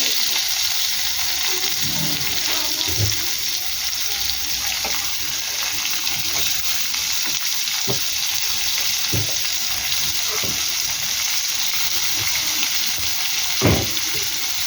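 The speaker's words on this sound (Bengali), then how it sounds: "পেঁয়াজ দিয়ে দিলাম। পেঁয়াজটা ভেজে ফিরছি বন্ধুরা।" Onions frying in hot oil with whole garam masala, bay leaf, dried red chilli and cumin, cooking for a fish head moong dal: a steady, close, broadband sizzle throughout, with occasional soft clicks and stirring scrapes.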